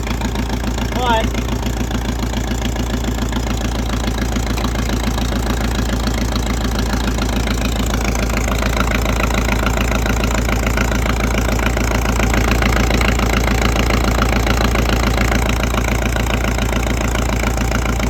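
A 1964 John Deere track loader engine idles steadily, not yet warmed up, with a loud, constant low rumble and a fast knocking pulse throughout; a voice speaks briefly near the start.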